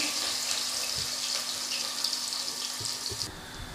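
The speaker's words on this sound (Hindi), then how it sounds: "ये हमने प्याज इसमें फ्राई करनी है" Chopped onions sizzle steadily in hot oil, a continuous bright frying hiss with faint clinks, close and alone with no talking.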